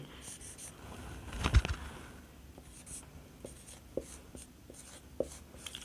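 Chalk or marker tapping and scratching on a board in short strokes during a lesson on heart systole and diastole, with a louder burst of scribbling early on and then single taps spaced apart.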